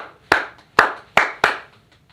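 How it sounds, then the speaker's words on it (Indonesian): Four sharp hand claps in a slow, slightly uneven rhythm, close and fairly loud, with quiet pauses between them and no voices. "Torang tepuk tangan dulu nih tahun ini."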